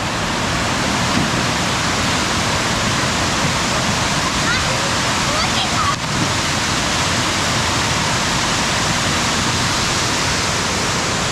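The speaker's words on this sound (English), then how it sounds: "this really cool natural micro waterfall pool area" Constant rushing roar of a small waterfall into a natural pool at Wewali Waterfalls, Raja Ampat, West Papua, loud and close, a steady wash of falling water that never lets up.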